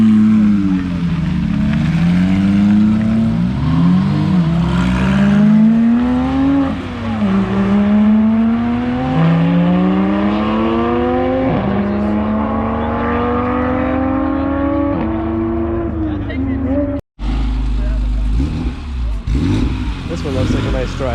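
Porsche sports car engines, a 4.0 and a 3.8, rev repeatedly with rising and falling pitch close by, one passing through, loud and continuous while people talk over it.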